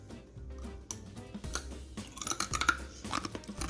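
Crunchy homemade peanut brittle chewed close up, with repeated loud crisp crunches in an irregular rhythm over a few seconds and no talking.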